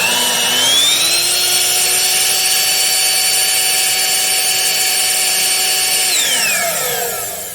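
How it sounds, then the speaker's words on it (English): A Greenworks 9-amp electric leaf blower motor whirs up to a steady high whine, runs evenly for several seconds, then winds down; no voices. "Let's see how this works on my Greenworks electric leaf blower."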